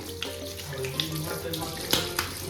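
Tap water running at a sink while something is being washed at home, a steady close splashing stream with a few louder spatters and brief clanks.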